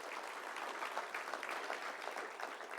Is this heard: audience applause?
yes